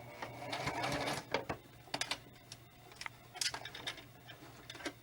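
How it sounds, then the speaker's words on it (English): A sewing machine back stitching cloth for a spirit doll gives short, irregular ticking bursts of needle clatter over a low steady hum, close and fairly quiet, with pauses between runs. "Turn it, and then back stitch it"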